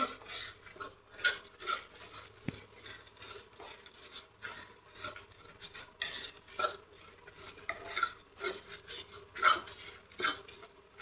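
Dried shrimp and spices roast dry in a pan while a spatula scrapes and stirs them in a quick, repeated rhythm of gritty rasping strokes, close and moderately loud, with no talking.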